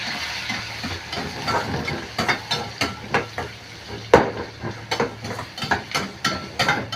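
Curry leaves, green chillies and onion are sautéed in a pan, with a soft frying hiss under a steady run of sharp spoon-on-pan knocks and scrapes at close range; no one speaks.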